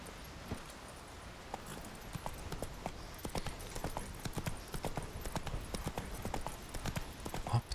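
Hooves of Roach, a horse in The Witcher 3, clop rapidly and steadily in a continuous gallop, close and fairly loud over soft ambient background.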